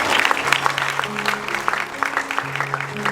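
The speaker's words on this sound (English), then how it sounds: "can you please clap for growth?" Audience applause at a large live show event, steady clapping from the crowd layered over sustained background music tones, fairly loud and continuous.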